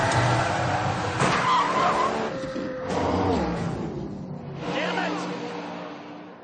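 A no-prep drag race car launches and runs down the track in a loud, roaring burst that fades with distance.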